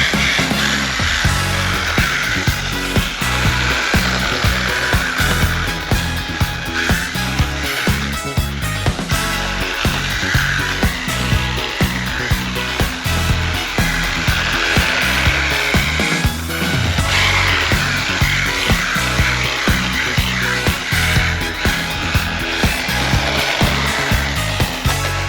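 A TEMU 1/16-scale four-wheel-drive brushless RTR drift car runs continuously for the whole stretch, its motor whining loud and steady with rapid rattling and rising surges, no talk over it.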